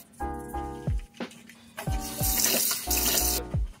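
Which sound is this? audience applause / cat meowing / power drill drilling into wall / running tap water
running tap water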